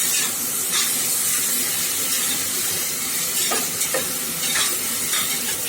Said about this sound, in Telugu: వేసుకొని కొద్దిగా ఫ్రై చేసుకోవాలి.